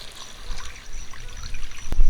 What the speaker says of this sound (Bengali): রস করার জন্য একটুখানি জল দিব